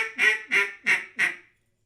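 A hand-blown duck call imitates a duck with a standard greeting call: five evenly spaced, nasal quacks, loud and close, then silence.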